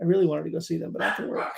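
Dogs bark briefly in the background while someone talks over them, the barks short and partly masked by the speech.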